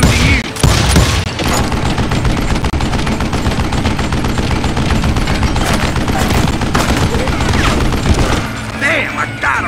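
Gunfire in the Call of Juarez Gunslinger video game, dense rapid shots and booming blasts packed together over nearly ten seconds, loud and continuous, with game voices mixed in.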